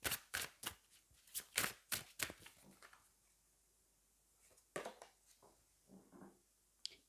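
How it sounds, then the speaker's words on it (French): Oracle cards being shuffled and drawn for a reading, a quick run of close, crisp card flicks and slaps followed by a quiet pause and a few softer card handlings. "ce que j'ai envie de faire, c'est de prendre une carte pour chaque"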